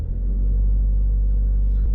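A car engine idles steadily at about 1,500 revs, a loud, constant low rumble that holds even throughout, heard close up with no talk over it.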